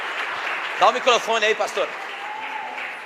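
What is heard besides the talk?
church congregation applauding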